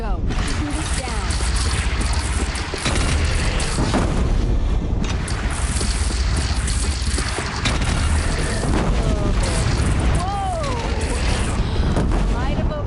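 A bridge shot down and exploding in Horizon Zero Dawn, a sustained loud rumble of crashing debris and booming blasts with whooshing sweeps, while voices speak over the din.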